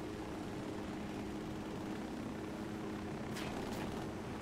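A helicopter in the video game Ghost Recon Wildlands drones steadily at low volume, its rotor noise a constant wash with no voices, joined by a faint brief rise near the end.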